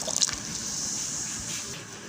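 A pot of salted water with vinegar at a steady rolling boil on the stove, ready for blanching cauliflower, giving a continuous close bubbling hiss throughout.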